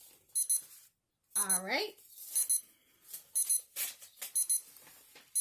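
A timer alarm goes off indoors, beeping in short repeated bursts, loud and close, with people talking over and between the beeps.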